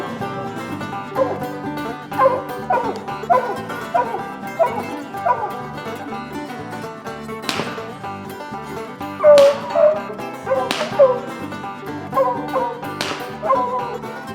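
A hunting dog, a champion coonhound, barks repeatedly in loud, close bursts, with yips and whimpers mixed into an uneven rhythm and no talk over it.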